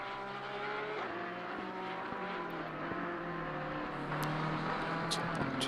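Race cars circulate on the Misano track in a racing video game, with a loud, steady engine drone that drops in pitch with gear changes and picks up faint clicks and squeals near the end.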